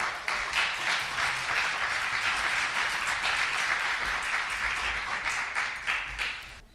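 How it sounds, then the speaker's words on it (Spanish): Audience applauding at a talk on secular humanism, a thick sustained burst of many hands clapping, loud and even before tapering off at the end. "Helmut, un aplauso, por favor."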